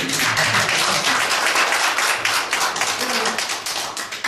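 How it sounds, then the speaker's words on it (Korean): An audience at a Korean lecture claps together, a dense sustained patter of many hands filling the room at steady loudness, with a voice faintly under it. "이쯤에서 박수 칠까요? 박수"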